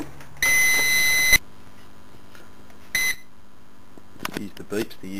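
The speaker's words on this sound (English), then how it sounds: "Use the beeps, the UPS likes to make some noise." An uninterruptible power supply beeps beside a high-voltage spark gap setup: one steady electronic tone lasting about a second, then a shorter beep, followed by a few faint voice sounds.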